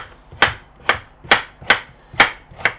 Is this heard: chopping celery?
yes